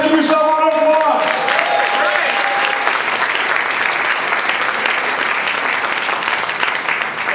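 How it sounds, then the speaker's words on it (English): An audience at a Toastmasters district conference business session gives a round of applause: dense, sustained clapping from a crowd filling the room for several seconds. "Give yourself a round of applause."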